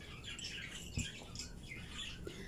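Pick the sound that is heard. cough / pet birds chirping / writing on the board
pet birds chirping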